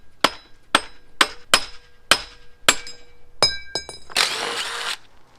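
Hammer blows strike metal to punch out a part on a VW ALH TDI engine during a teardown, about eight sharp ringing clanks at uneven intervals, then a short scraping rattle, close and loud with no talk.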